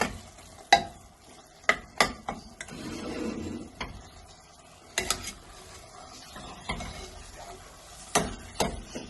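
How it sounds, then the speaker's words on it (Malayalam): Spatula clacks and scrapes against a pot while stirring beef mince with masala at an uneven pace, with a soft sizzle underneath between the strokes. "ഇതേപോലെ ഇളക്കി ചേർത്തെടുക്കുക. അപ്പോൾ ഈ മസാല ഒക്കെ ഇതിലേക്ക് പിടിക്കും."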